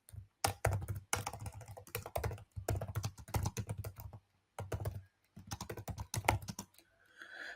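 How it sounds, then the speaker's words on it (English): A question being typed on a computer keyboard, with close, crisp key clicks in quick runs broken by short pauses and one slightly louder keystroke near the end. "So via the Q&A functionality, I will type here an example question."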